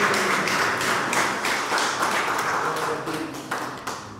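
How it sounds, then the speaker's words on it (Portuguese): A church congregation at a Sunday service claps hands in praise, a dense, continuous wash of clapping with rhythmic pulses throughout, fairly loud and close, fading slightly toward the end. "Pode louvar a Deus com as palmas"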